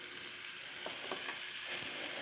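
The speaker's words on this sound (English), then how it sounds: "I'm about to put these hamburger in the skillet." Hamburger patties sizzle in a hot skillet, a steady hiss of frying with a few short clinks and scrapes of the pan, close and fairly quiet.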